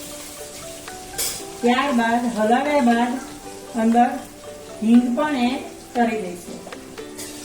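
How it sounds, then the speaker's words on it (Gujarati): Onion and capsicum sizzle in hot oil and ghee in a pan, cooking for a Gujarati veg pulao while being stirred. A steady frying hiss runs beneath someone talking throughout. "હવે આપણે અંદર ડુંગળી, કેપ્સિકમ એડ કરીને હલાવી દઈશું"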